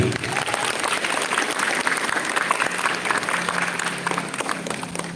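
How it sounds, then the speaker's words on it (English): Audience applause for the speakers at a focus group discussion involving Michigan State University, steady dense clapping filling the whole stretch at moderate loudness, with faint voices underneath. "Please give applause to all speakers"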